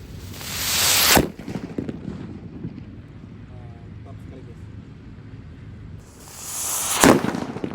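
A finger-sized paper-wrapped firecracker goes off outdoors with a sharp, loud bang, and a second blast follows several seconds later, with quieter rustling and wind in between.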